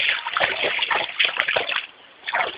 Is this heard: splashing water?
yes